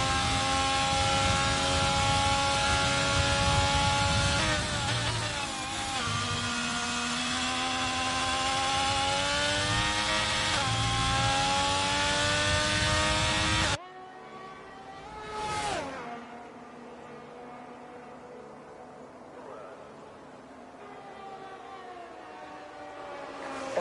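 Race car engines whine at high revs through a lap of Monza in a racing video game, loud and sustained with rising and falling gear pitches, then a quieter stretch with a car sweeping past.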